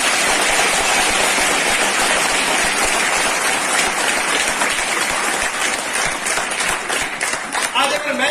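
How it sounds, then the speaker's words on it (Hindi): An audience at a training seminar gives loud, sustained applause for its leaders, a dense continuous wash of clapping that carries on for over eight seconds with little change. "लीडर्स के लिए एक बार जोरदार तालियां होनी चाहिए।"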